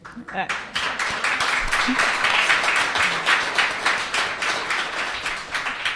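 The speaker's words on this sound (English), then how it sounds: "that applause is for both our writers" Audience applause for writers at a literary prize event, broad sustained clapping from a crowd that swells and holds steady, with a voice briefly audible at the start.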